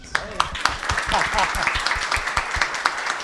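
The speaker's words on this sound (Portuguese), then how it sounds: "Palmas para a vitória, né, gente?" Audience applause at a deep tech policy panel forum in Recife, with sharp claps starting up and building into steady, moderately loud clapping across the clip while voices speak over it.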